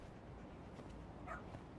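A dog in the video game Lost Judgment gives one brief, faint yip or whimper over a quiet background.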